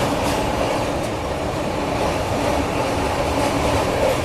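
The Ranchi Rajdhani Express rolls slowly through Naini Junction at night, its loud, steady rumble and wheel clatter running unbroken throughout with no voices.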